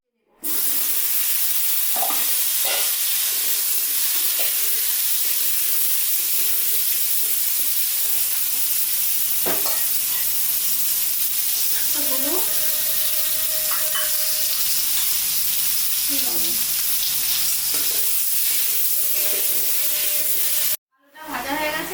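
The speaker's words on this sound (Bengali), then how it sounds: "আলুটা ভাজা হয়ে গেছে, আলুটা তুলে নেব।" Potatoes frying in hot oil give off a steady sizzle and hiss that goes on without a break, with occasional clinks of a utensil.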